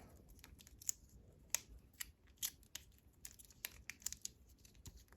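Thin plastic packaging around an infrared thermometer is torn and crinkled open by hand, giving faint, sharp, irregular crackles and snaps close to the listener with no talk.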